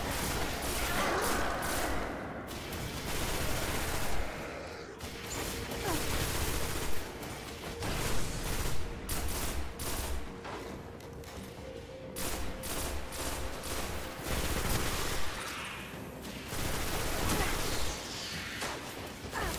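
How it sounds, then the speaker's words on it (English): Sustained rapid auto rifle fire in the video game Destiny rattles loudly and almost without pause, with short gaps and layered impact and whoosh effects underneath. "Oh my gosh, this auto rifle is crazy."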